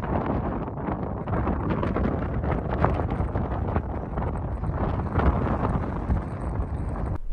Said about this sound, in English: Sorry again for the wind. Hopefully it's not catching my mic as much